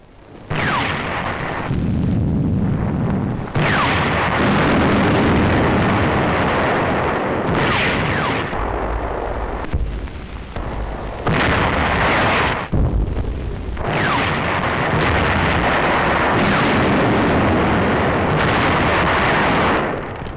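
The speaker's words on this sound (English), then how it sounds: "November the 25th, the first real tank clash." Repeated explosions and artillery fire from a World War II tank battle in Tunisia, loud heavy booms and rumbling blasts packed closely together over a continuous din of battle, with no talk.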